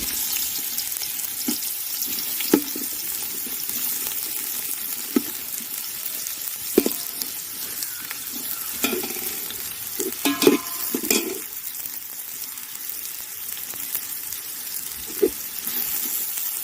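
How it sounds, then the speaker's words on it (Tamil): Sliced big onions sauté in hot oil for a village-style country chicken biryani, a low continuous sizzle with scattered spoon scrapes and clinks against the pan, fairly close and unaccompanied by talk. "4 பெரிய வெங்காயம் அரிஞ்சு வச்சுருக்கேன், அதையும் போட்டு இதில் வதக்கிக்குவோம்."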